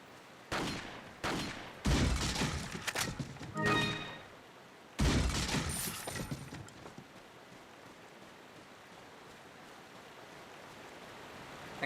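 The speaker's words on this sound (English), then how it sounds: "I think he's shooting at those guys." Several bursts of gunfire from a character shooting in Resident Evil 4, sharp loud cracks in quick irregular clusters over several seconds, then a long quiet stretch of faint background ambience.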